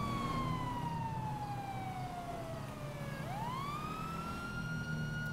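Emergency vehicle siren in the GTA 5 video game: one continuous loud wail that slides steadily down in pitch, then sweeps back up, over a constant low rumble of traffic noise.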